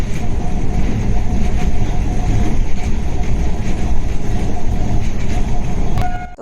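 A train running on a railway on a foggy morning: a loud, steady rumble and rattle of the carriages that fills the whole stretch without a break, with no talking.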